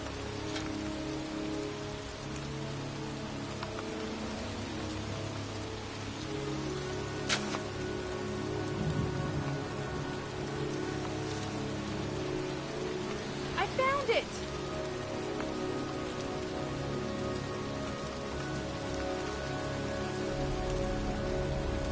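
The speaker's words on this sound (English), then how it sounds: "It's cold. It's raining. I'm standing outside getting soaked." Steady rain falls on surfaces in the video game Baby Rain, a constant soft patter with a few sharper drips and taps standing out now and then.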